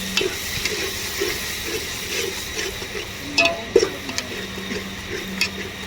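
Black masala is stirred in a pan over a wood-fired stove, close up. Steady, rhythmic scraping strokes run over a soft sizzle, with a few sharper clanks of the spoon.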